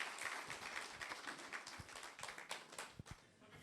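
A faint burst of audience applause for a founder chairman, scattered hand claps over a soft crowd murmur, heard from a distance.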